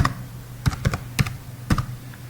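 Keys clatter on a computer keyboard while an Excel formula is typed, with a handful of quick keystrokes in short clusters, close and clear, with no talking.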